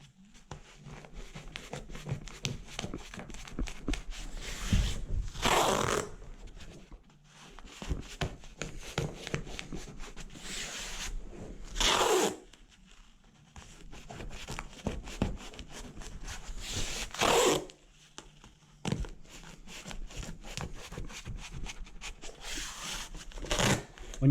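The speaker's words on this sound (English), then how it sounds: "So you just push the tape down, run your finger along." Masking tape is pressed down along a skirting board next to carpet by a finger run along it, giving soft close rubbing and crackling strokes in bursts, separated by brief louder rustles and quieter gaps.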